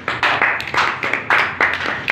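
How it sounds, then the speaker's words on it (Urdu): An audience claps for Priscilla, a short burst of loud, close hand claps landing in an uneven, quick rhythm. "پرسیلا کے لیے ایک بار زوردار تالی."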